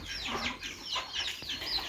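Chickens cluck in a busy, overlapping chorus as they file into a backyard coop on a small homestead with goats and ducks, steady and fairly close with no talk.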